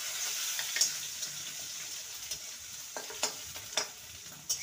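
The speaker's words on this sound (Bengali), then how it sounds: "ভালো করে আদা আর টমেটোকে নেড়ে নেব।" Ginger paste and chopped tomato stirred in a hot pan, a steady sizzle with repeated scraping strokes and taps of the spoon at an uneven rhythm, close by.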